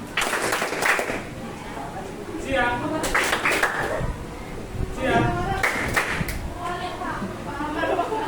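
Children play a hand-clapping game, with quick bursts of palm claps that come in rhythmic clusters between their sung chanting voices and chatter.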